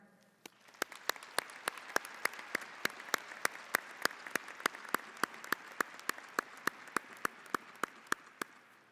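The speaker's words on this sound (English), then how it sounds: "would you please join me in the platform party in applauding the accomplishments of these graduates?" An audience applauds the graduates at a College of Engineering commencement ceremony, with a steady wash of clapping in a large hall and sharp individual claps cutting through at a regular, even rhythm.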